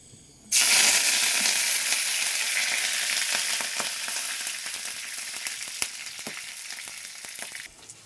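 Curry leaves and green chillies hitting hot oil after mustard seeds, bursting into a loud, steady sizzle that starts abruptly and continues with small crackles and pops, easing slightly toward the end.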